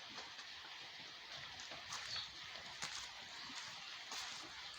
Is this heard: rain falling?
yes